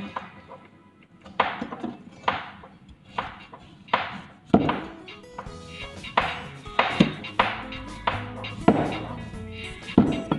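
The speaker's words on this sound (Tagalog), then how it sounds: "mag-uumpisa na ako ng hiwain yung mga gulay" Knife chopping vegetables on a board for ginataang bilo-bilo, a steady series of sharp thunking cuts in irregular rhythm, fairly close and loud, with faint background noise between strokes.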